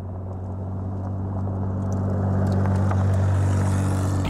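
A Porsche 911 Carrera RS 2.7 with its 210 PS 2.7-litre six-cylinder boxer engine accelerating, giving a steady, loud, low drone that gradually grows louder.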